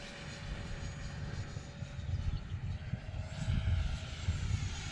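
Xfly T7A radio-controlled airplane flying at mid altitude with its propeller engine droning steadily, a faint, even buzz heard alone outdoors.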